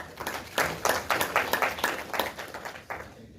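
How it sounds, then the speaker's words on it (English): A conference audience applauding a guest speaker, dense overlapping claps rising quickly and holding steady for a few seconds before starting to thin out. "Please welcome him with a huge round of applause."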